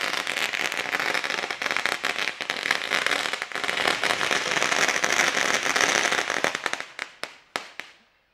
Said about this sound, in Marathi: आपण पाहूया प्रीतमदादा म्हात्रे यांचं स्वागत मात्र मोठ्या जल्लोषात फटाक्यांच्या आतषबाजीमध्ये इथे होताना आपल्याला पाहायला मिळेल।